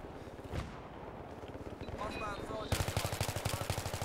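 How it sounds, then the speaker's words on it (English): Rapid automatic gunfire aimed at a jeep in the video game Battlefield 3, a steady stream of shots that turns louder and closer partway through, with a few voices over it. "Shoot the jeep behind."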